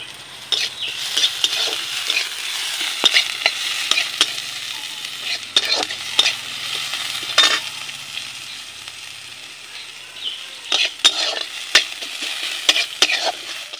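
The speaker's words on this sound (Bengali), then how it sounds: "পেঁয়াজগুলো আমার ভাজা ভাজা হয়ে এসছে" Onions and garlic sizzle steadily in a pan in a village kitchen while a spoon stirs them, with scraping clinks and taps standing out over the constant hiss.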